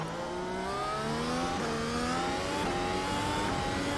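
A race car engine in the iRacing video game screams steadily at high revs, rising through gears with sharp shift drops, loud and continuous with no voices over it.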